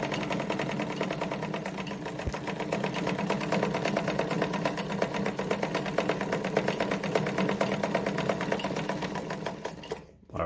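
A Singer model 237 sewing machine stitching fabric at a shortened stitch length, running as a steady, fast mechanical whir with even rhythmic clatter for about ten seconds before stopping abruptly.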